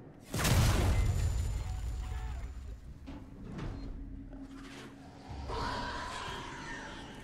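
A flashbang grenade goes off in the video game Alien Isolation: a loud, sudden blast with a bright broadband burst that fades into a rumbling decay, followed by quieter thuds and rustling.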